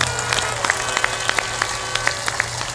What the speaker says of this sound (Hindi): सब लोग ताली बजाकर उनका सम्मान करें